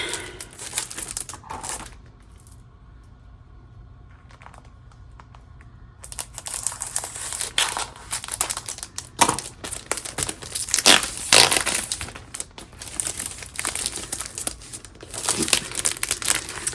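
Wrapping paper on a Stampin' Up! holiday catalog package is crinkled, unwrapped and torn during an unboxing, with loud close crackling bursts and rips after a quieter pause.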